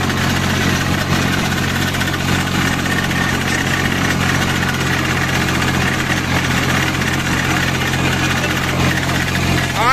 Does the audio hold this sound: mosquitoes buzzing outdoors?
no